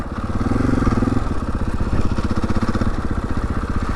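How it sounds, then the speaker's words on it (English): A motorcycle engine pulls steadily in third gear as the throttle is rolled on during a ride comparing a Honda CRF300 and a KTM 500, with a loud, close, continuous throbbing drone. "And now I'm in third gear and I'm just rolling the power on it."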